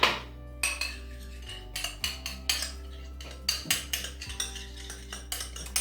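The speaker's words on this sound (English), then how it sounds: "Mix the two of those together." A utensil clinks against a bowl while Greek yogurt and Dijon mustard are stirred together, making quick rhythmic scraping clinks in short bursts over steady background music.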